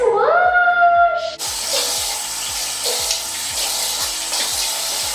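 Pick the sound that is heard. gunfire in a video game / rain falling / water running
water running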